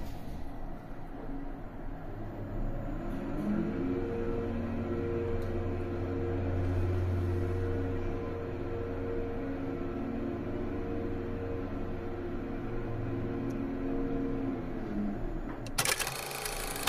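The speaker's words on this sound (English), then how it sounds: "we're gonna get the lift now and we'll give you a quiet ride" An OTIS elevator with a metal and Lexan glass cab descends to the basement, giving a steady low mechanical hum and drone throughout, with a short clunk near the end.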